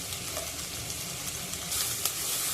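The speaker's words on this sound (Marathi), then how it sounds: "साईडला घालते म्हणजे तो सुद्धा चांगला फ्राय होईल" Curry leaves and chopped green chilli fry in hot oil beside onions over a low flame for a broad bean curry, a soft, even hiss of sizzling oil with faint crackles, heard close and with no voices.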